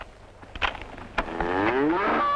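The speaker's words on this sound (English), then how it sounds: "In the evening, when Ramon drives the cows home for milking, he is returning to his village." Cattle in a Mexican village low with one long, close, rising moo in the second half, after a few scattered knocks and shuffles.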